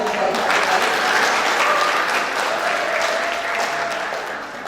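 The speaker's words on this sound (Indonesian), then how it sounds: "Tepuk tangan untuk" Loud, sustained applause from an audience at a school alumni gathering, dense clapping throughout that tapers slightly toward the end, with no speech over it.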